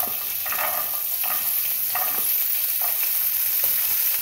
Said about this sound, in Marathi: तर याच तेलामध्ये आता आपण मटार टाकूया.